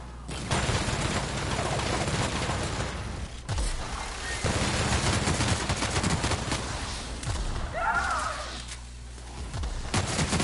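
Rapid gunfire with heavy recoil in the video game The Outer Worlds. Dense bursts of shots run through most of the clip, with brief gaps and a faint voice near the end.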